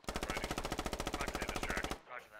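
Automatic gunfire in the video game Squad, a loud, rapid, evenly spaced burst of about two dozen shots, close and sharp, then cutting off into a quieter tail.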